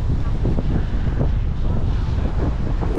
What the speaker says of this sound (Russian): Море штормит, потому что ветер.